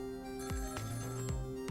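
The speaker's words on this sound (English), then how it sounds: "phone's ringing again" A telephone rings in the Ghost Trick: Phantom Detective video game, a repeating electronic ringtone pulsing in short, evenly spaced bursts over steady game music.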